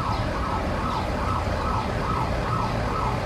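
A wailing emergency siren in Mexico City during a magnitude 7.3 earthquake rises and falls in a steady repeating cycle over a constant rumble of traffic, loud and continuous throughout.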